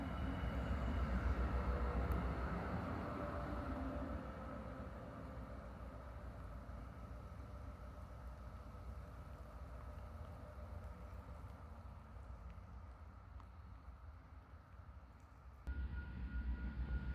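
A KiwiRail DM class diesel locomotive hauling a special test train on the Main North Line in Canterbury, a low steady engine rumble and rolling rail noise, heard from a distance and slowly fading.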